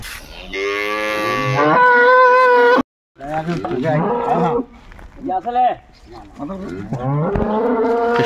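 Dairy cows and a calf of an improved breed moo repeatedly at a cattle market in Dinajpur, loud and close, with long harmonic calls and overlapping voices of people talking nearby.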